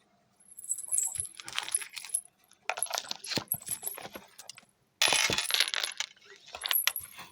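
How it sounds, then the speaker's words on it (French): Scissors snip through paper on a crafting table, a series of crisp, close metallic cuts and rustles in bursts, separated by brief quiet gaps. "on va le couper, hein, comme d'habitude, avec notre paire de ciseaux."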